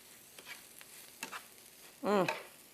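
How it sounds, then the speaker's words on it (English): Brussels sprouts sautéing in bacon fat, with soft scattered stirring clatter and faint sizzle, then a brief louder burst near the end. "saute those Brussels sprouts in that bacon fat until they're tender"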